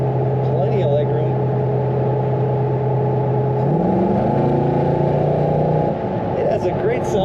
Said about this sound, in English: It has a great sound coming out the tailpipes too